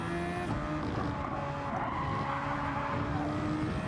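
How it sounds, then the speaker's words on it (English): A Super Formula race car in Gran Turismo 7 spins off at Spa, tires skidding and squealing under a steady engine drone for several seconds. "Other car spinning off."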